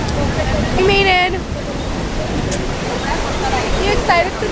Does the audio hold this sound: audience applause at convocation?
no